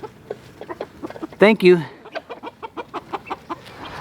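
Silkie chickens cluck in a coop in a rapid stream of short, close clucks with one louder squawking call partway through, and a brief voice speaks over the flock.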